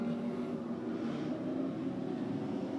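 Steady droning engine roar, distant and continuous, of race cars circling the track at Lee USA Speedway, heard from afar.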